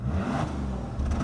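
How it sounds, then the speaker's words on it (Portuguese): A Bentley Continental GT's W12 engine revs, a deep throaty mechanical roar that holds strong, dips slightly, then surges again near the end, close and loud. "Vamos lá ouvir o rev deste carro."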